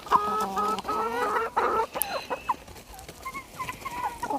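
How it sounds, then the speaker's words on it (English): Chickens cluck and squawk while feasting on scraps of fruit and vegetables at a homestead in Mexico. Several birds make loud, close, irregular calls, busier at first and then sparser. "we gave them to our chickens and they're having a feast."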